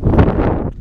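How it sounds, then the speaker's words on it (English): Strong wind buffets a microphone outdoors, a dense, loud rumbling roar that holds steady for under a second before easing slightly at the end. "It's super windy out here."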